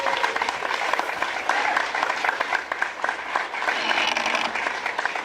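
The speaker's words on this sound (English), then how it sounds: "I would love to hear a round of applause for our mayor" Outdoor crowd applauding the mayor at a rainbow flag raising and Pride proclamation, uneven clapping with a few cheers, moderately loud and steady across the whole stretch.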